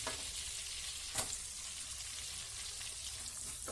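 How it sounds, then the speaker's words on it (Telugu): Sliced onion fries with cumin on a tawa for street-style pulao, a faint, even sizzle like light rain that carries on without a break, with one brief scrape of stirring and no voices. "ఇది స్లైసెస్గా కట్ చేసుకొని ఇది వేసుకుంటున్నాను."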